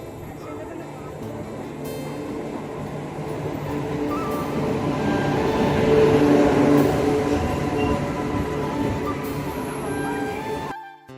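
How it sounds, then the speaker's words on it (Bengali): A Ghatshila local train pulls into a station at night with a long, steady rumble of wheels and carriages that swells midway and fades near the end, heard close with faint voices mixed in. "ঘাটশিলা লোকাল ঢুকে গেছে"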